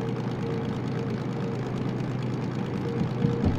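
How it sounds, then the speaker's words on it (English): A DM3 diesel locomotive in the Derail Valley train simulator runs steadily with a low, continuous engine drone and hum, close and unbroken, with a faint extra thump near the end. "Listening to the engine."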